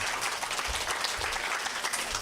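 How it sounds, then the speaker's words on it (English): An audience at a church service claps in warm, dense applause. It fills the whole stretch at a steady, loud level with no talk on top. "let's give another warm round of applause for the amazing Charley Thweatt."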